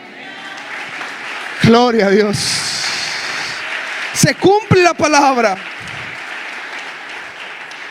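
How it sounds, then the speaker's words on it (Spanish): Congregational applause at a church service, a continuous wash of clapping from many people running beneath a preacher's loud, excited voice, which speaks in two short bursts over it. "den un aplauso a Cristo"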